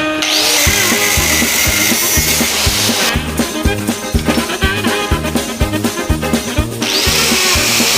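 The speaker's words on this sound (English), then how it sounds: "Drill both sides, tap both sides." A power drill bores into a metal bracket for a drift car build, its motor whining in rapid, pulsing bursts with a short break midway, loud and close.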